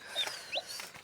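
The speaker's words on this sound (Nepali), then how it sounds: "उनीहरूले अन्डा पार्नु बसिरहेको छ नि त्यो कुखुरा।" A hen sitting to lay eggs gives a few short, close clucks in quick succession, quiet and alone.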